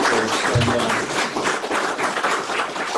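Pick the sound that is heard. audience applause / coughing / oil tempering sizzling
audience applause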